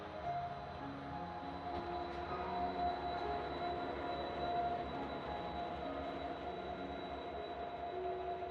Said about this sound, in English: as you saw, the train just left the station.